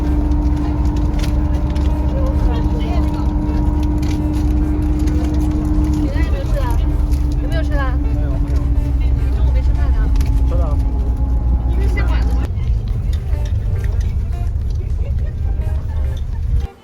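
A bus engine idles at length with a constant low drone and a steady hum that shifts pitch partway through, amid passing traffic, while people talk nearby.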